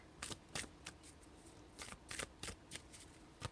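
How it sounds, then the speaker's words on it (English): Tarot shadow cards shuffled by hand, a handful of soft riffling bursts at uneven intervals, close but quiet. "I want to pull a couple shadow cards for the karmic."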